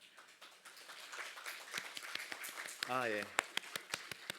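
Sparse, scattered claps ring out from a Korean Presbyterian church congregation in Hawaii during a Sunday service, a handful of distinct hand claps around a short spoken reply.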